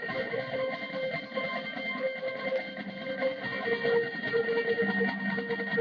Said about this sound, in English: It's two Boss digital delays, DD5 and DD7 together.